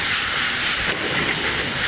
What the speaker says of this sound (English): So now I'm just going to saute these vegetables real quick.